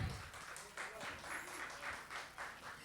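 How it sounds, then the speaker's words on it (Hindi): Applause from an audience at a live music show, a brief patter of clapping under an emcee's voice, moderately loud and uneven. "तालियां।"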